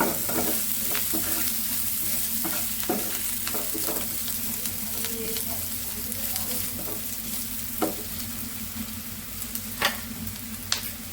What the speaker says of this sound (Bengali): আমার মেয়ের জন্য মাছ ভুনা করতেছি এখানে পেঁয়াজ আর একটু ছোট ছোটো কাঁচামরিচ দিয়ে দিছি